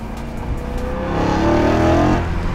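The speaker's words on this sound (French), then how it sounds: "dès qu'on met un peu de pression sur l'accélérateur et qu'on dépasse 3000 tours, là, par contre, ça devient vachement sonore" A BMW M3 E92 engine pushed past 3000 rpm on a short straight, revving hard and loud with a rising, swelling roar that builds toward the middle and holds, heard alone without talk.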